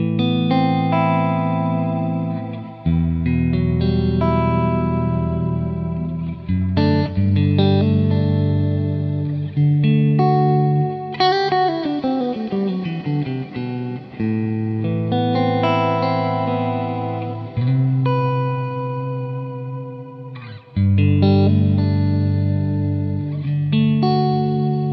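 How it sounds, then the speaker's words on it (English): An electric guitar played through an Amplified Nation Wonderland Overdrive V2 amp at loud volume, with thick overdriven chords and sliding single-note runs sustaining continuously for a long stretch, no voices. "The Wonderland Overdrive version 2 sounds fantastic at loud volumes"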